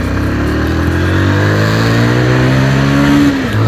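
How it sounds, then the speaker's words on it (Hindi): A Bajaj Pulsar 150 DTSi motorcycle running on Castrol oil revs in second gear, a loud, close, steady engine drone with a climbing pitch that drops off sharply near the end. "मैं आपको थोड़ा सा रन करके दिखाता हूँ बाइक को।"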